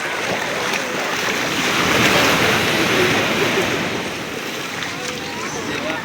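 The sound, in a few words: sea waves at Tiruchendur beach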